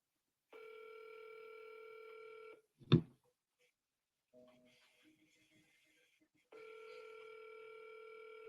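A telephone call ringing through a handset, with steady ring tones at the start and end and a brief clunk between them.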